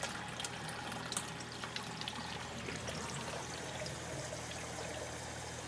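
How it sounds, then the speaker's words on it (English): Continuous watery gurgling and bubbling as air is sucked through the drain of an aquarium external siphon overflow with a low water level, close and steady with small irregular splashy pops. "through this drain, with the low water level, the air is being sucked back"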